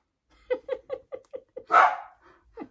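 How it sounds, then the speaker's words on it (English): Dogs barking close by: a quick run of about six short, evenly spaced barks, then a longer, harsher bark and a final yip. "Oh, there's the dogs."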